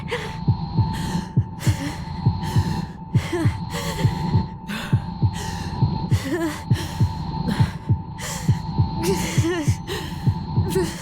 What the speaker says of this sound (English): My heart, it's gonna explode.